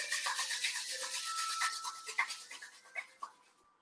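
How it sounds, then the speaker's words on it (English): Palms rubbing together during a seated yoga warm-up, a continuous close, dry swishing friction with a few sharper strokes near the end, heard alone without talk. "So please start by rubbing the palms together."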